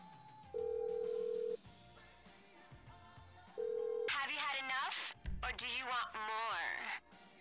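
A phone call in a video game: two long electronic ring tones with a gap between them, then a burst of a warbling synthetic voice and game audio, close and clear.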